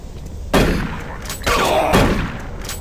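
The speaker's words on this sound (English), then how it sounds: "How did his shotgun hit so far?" Shotgun blasts in the video game Doom 3, three loud booming shots about a second apart, each with a ringing, echoing tail.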